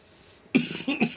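A short burst of coughing after a hit from a blunt: one sharp cough followed by two quicker, rougher coughs, close and fairly loud.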